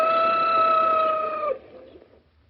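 A rooster or chicken in an old-time radio comedy about a farm bird gives a sustained, strained crowing call that holds for about a second and a half, then cuts off into quiet.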